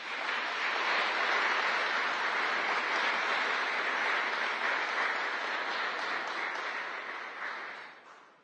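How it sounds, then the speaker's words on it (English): A large audience at a ceremony honoring descendants of the Buffalo Soldier 24th Infantry Regiment breaks into sustained, dense applause, steady and loud for about seven seconds before tapering off near the end. "Please give them all a round of applause."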